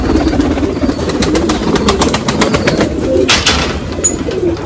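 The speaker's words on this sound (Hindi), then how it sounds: "ये आ रहे कबूतर।" Pigeons coo and flutter in a rooftop loft, a dense, continuous chorus of low throaty cooing close by, with sharp wing claps and rustles breaking through near the end.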